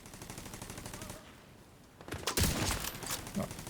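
Rapid bursts of video game gunfire from automated turrets, a dense crackling volley erupting after a quieter stretch and continuing loudly to the end, with steady game ambience underneath.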